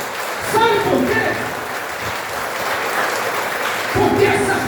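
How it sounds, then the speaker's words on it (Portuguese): A church congregation claps for Jesus at a Saturday worship meeting, a steady wash of applause running throughout with a voice speaking over it at moments. "dê para Jesus uma linda salva de palmas"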